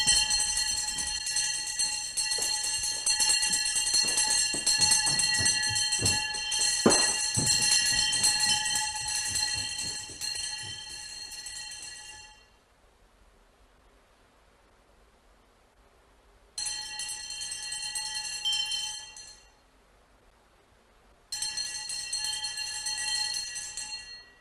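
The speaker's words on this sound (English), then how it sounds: "The day of the training monks begins with the wake-up bell." A bell rings out in a Zen temple at four in the morning to wake the training monks, its sustained ringing tone decaying after a struck passage, then sounding again twice in shorter bursts, clear and alone without talk.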